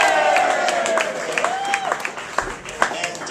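Wedding guests clapping and cheering in a crowd, a steady wash of applause with scattered louder claps and whoops rising toward the end.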